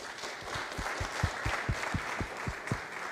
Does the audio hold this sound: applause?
yes